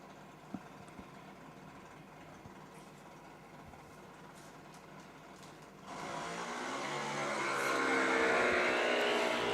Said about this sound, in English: That was just a good old drag race there in qualifying for Junior Dragster.